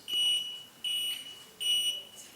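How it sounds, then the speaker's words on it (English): An alarm in a conference room sounds three piercing high beeps, each about half a second long and evenly spaced, steady and fairly loud over a quiet room with no talk. "No clue what kind of alarm that is."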